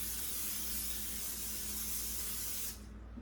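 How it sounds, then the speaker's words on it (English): Steady hiss of cooking spray from an aerosol can onto a cornbread pan for nearly three seconds, close by, cutting off abruptly. "we got our pan sprayed really good"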